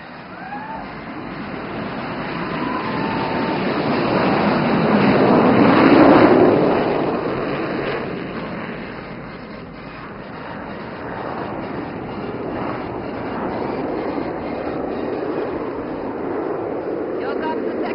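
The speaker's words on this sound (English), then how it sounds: "Here comes the first Vic takeoff with number 1 flanked by number 2 and 3 leaving" Three aircraft in a Vic formation take off together at the Aero India air show at Yelahanka Air Force Station, a broad engine roar that swells to a peak and then fades into a steady distant rumble, with voices in the background.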